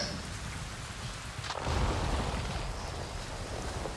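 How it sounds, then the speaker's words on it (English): A thunderstorm in the video game Avatar: Frontiers of Pandora: steady rain hisses throughout while a rolling thunder rumble swells midway and fades, with no voices. "this literally just a thunderstorm?"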